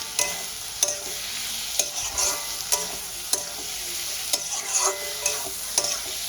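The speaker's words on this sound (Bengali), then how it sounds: "মশলাটার সঙ্গে ভেজে রাখা আলুটাও দিয়ে দেবো, দিয়ে একসঙ্গে কষাতে থাকবো।" Fried potatoes stir-fried with spice masala in a pan: a steady sizzle under repeated sharp scraping knocks of a spatula, coming in a loose, uneven rhythm about every second, close and clear with no talk.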